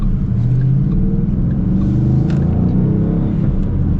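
A Ford Mustang Boss 302 with a 5.0 engine rumbles and revs up with a deep, steady roar, loud and close, with no voices.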